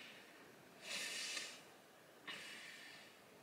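Two quick nasal sniffles, the first longer and the second sharper, close and fairly quiet with silence between.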